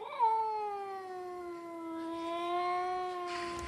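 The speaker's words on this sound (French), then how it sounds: "Et c'est un chat pourtant." A cat gives one long, drawn-out meow that sounds like a crying baby, a close, sustained wail that holds steady and slowly bends in pitch with no talking over it.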